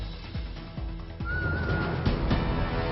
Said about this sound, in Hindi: सीटी बजाकर निकालते हैं गानों की धुन